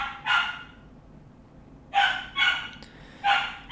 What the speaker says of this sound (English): you guys will have to just bear with me and ignore the dog in the background